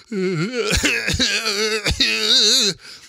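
A strained voice sings drawn-out notes, broken several times by sharp, harsh coughs and choking gasps.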